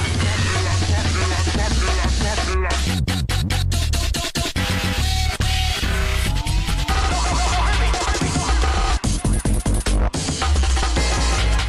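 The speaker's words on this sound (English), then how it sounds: "breakcore sounds a bit like this" Frantic, heavily chopped breakcore drum break sped up to a very fast tempo, dense stuttering hits and crashes over booming low end, loud and chaotic.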